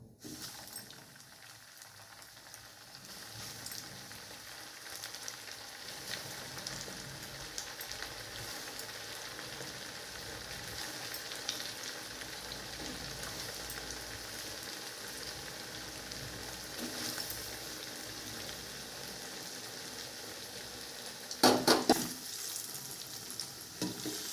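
Flattened rice (chira) pitha fritters frying in hot oil and ghee in a kadai, a soft continuous sizzle with occasional bubbling crackles and a brief clink near the end, fairly quiet.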